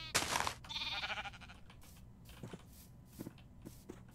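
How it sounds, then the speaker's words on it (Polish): A sheep in the Minecraft video game gives a short bleat after a brief louder thump, followed by faint scattered game sounds. "O mój Boże, za tą owcą idą dwie małe owieczki."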